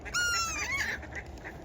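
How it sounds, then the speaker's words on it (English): A duck on ice gives a short honking call, fairly faint over a steady low rumble of wind or background noise, followed by quieter calls. "look at the duck. He's walking on the ice."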